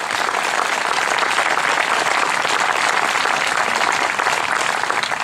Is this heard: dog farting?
no